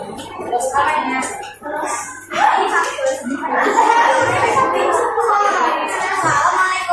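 Children in a classroom clap for a student group, a burst of scattered hand claps that builds after a pause and carries on under chatter and a few laughs from the kids.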